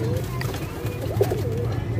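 Pigeons of a fancy high-flying breed coo in soft, repeated throaty phrases nearby, while someone talks steadily over them.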